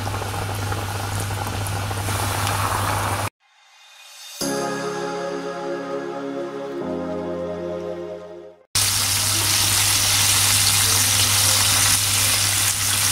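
Broasted chicken pieces frying in oil on a low flame, a dense steady crackling sizzle that cuts out briefly mid-way, with a tonal hum during the gap, then returns just as strong.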